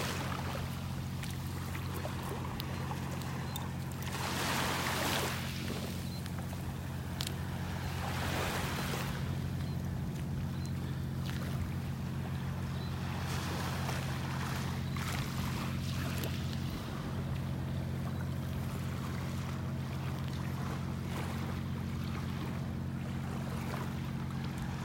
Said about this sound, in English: Peaceful listening to the waves here. Just little tiny waves breaking on the shore.